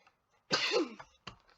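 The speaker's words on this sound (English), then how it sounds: "I've been holding that cough in for a long time" One harsh, close cough followed by a short second hack, in an otherwise quiet room.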